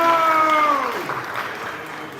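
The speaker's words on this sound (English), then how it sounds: "Let's give them a round of applause." Applause rises in a city council chamber in Los Angeles, a crowd clapping steadily at moderate volume while a brief fading tone sounds at the start, the clapping continuing evenly to the end.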